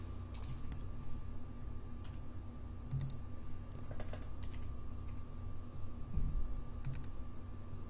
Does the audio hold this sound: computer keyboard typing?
yes